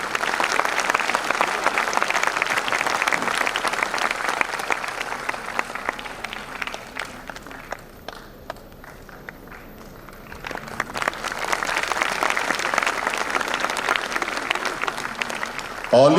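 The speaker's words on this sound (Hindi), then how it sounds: "जोरदार ताली बजाएं बेटा" An audience at an Independence Day celebration for a hospital opening bursts into loud, sustained applause, dipping briefly in the middle before swelling again with dense clapping.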